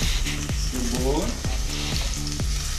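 Onion frying in olive oil, a strong close sizzle with rhythmic spoon-on-pan stirring knocks roughly every half second, no speech.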